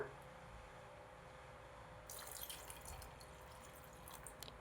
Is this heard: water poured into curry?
yes